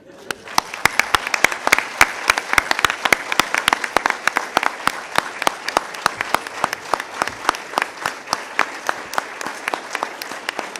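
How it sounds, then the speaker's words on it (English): Conference audience claps in a sustained round lasting the whole stretch, sharp individual claps standing out over a dense steady patter, close and loud. "he says 15 seconds you have to clap"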